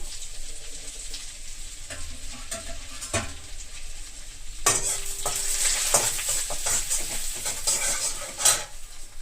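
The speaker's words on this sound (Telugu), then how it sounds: "1 బై 1 ఇవి వేసుకొని వేయించుకుందాం" Garlic and ginger fry in ghee for veg fried rice: quiet stirring and utensil clinks at first, then a sudden louder sizzle with spatula scrapes and clatters against the pan, close and without speech.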